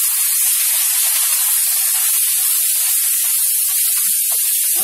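Cumin seeds and onion dropped into hot oil for a besan jackfruit sabzi, a loud, steady, bright hissing sizzle that runs unbroken from start to end with no talking.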